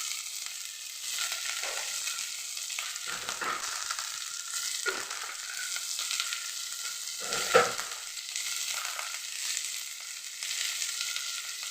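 Sambar with chili powder simmering and frying in a pan, a steady close sizzle with a few brief stirring scrapes, no voices.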